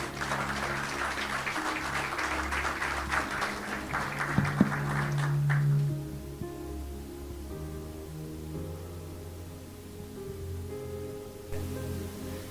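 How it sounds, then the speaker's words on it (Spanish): A church congregation gives a burst of applause during a Sunday service, clapping for about five seconds before it fades into a quiet room hum. "¿Puede brindarle un fuerte aplauso a nuestro Dios?"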